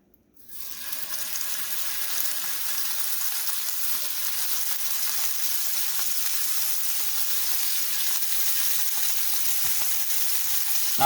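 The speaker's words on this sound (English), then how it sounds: "Now when that steak hits you, you're going to hear it sizzle" Venison steak cut from the hind leg hits hot oil in a pan and bursts into a loud, steady crackling sizzle that holds at close range for the whole span without any talking.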